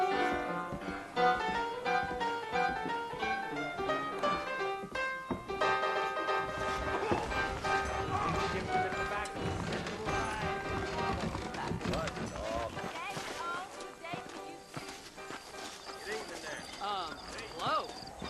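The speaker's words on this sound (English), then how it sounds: "I got the horses saddled up and ready out front." Horses gallop in the Red Dead Redemption western video game, with steady clip-clop hoofbeats running under orchestral game music and some voices.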